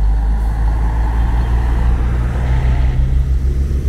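A Viação Cometa intercity bus pulls into the Tietê bus terminal at night, its deep diesel engine rumble steady and close, with a faint hiss like air brakes amid terminal traffic noise.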